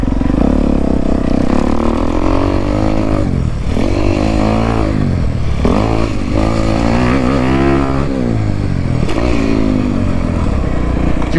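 A 2023 Honda CRF 250R dirt bike ridden at Washer Valley revs hard and close throughout, its engine pitch rising and falling through repeated throttle bursts and gear changes.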